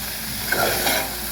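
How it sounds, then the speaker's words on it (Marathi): Cauliflower sizzles and crackles gently in hot oil, a soft steady frying hiss with a brief stir partway through. "आपला फ्लावर मस्त असं तेलामध्ये फ्राय झालेला आहे"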